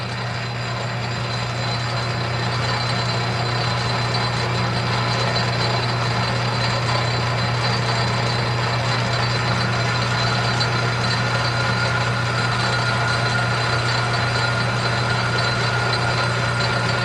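A metal lathe boring a flanged bearing with a very fine cut runs as a steady, continuous mechanical hum and drone with a constant low tone, close and unbroken for the whole stretch, with no talking.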